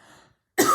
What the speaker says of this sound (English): Hang on a minute, I'm just going to cough.